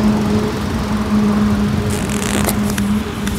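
A 2025 Hyundai i20 engine idles just after starting, a steady low hum with faint mechanical whir, heard close and continuous with a few light clicks.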